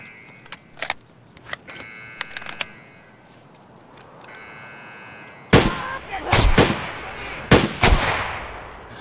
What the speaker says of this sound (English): But they're shooting at you with the scavs.